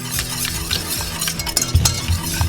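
Grey Poupon mustard being whisked vigorously into a cowboy butter sauce, a steady scraping stir with light clinks of utensil against the bowl, growing louder in a few sharper taps toward the end.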